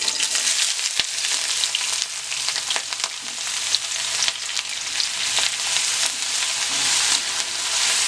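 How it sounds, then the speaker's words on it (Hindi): Onion frying in hot mustard oil for a lauki chana dal, a loud, dense, continuous sizzle close up with occasional stirring clicks. "अब मैं इसमें अंदर ऐड करूँगी अनियन"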